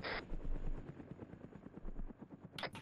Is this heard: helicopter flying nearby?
yes